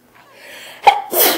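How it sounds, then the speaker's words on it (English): A single sharp sneeze bursts out close and loud, with a short catch of breath before it and a second explosive burst trailing at the end, otherwise quiet. "I don't know why I always fucking sneeze every single time I do a stream."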